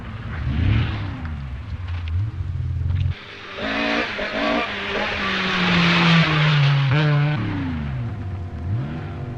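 Rally cars at the 1981 Monte Carlo Rally roar past close by, engines revving hard through gear changes with rising and falling pitch as each car accelerates away.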